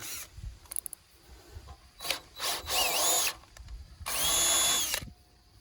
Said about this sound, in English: thread the hole here with a tap